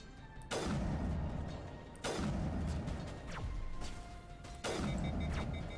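Gunfire in the video game Mass Effect 1: three heavy booming shots or impacts spaced a couple of seconds apart, each with a long decaying tail over a dense background of game ambience.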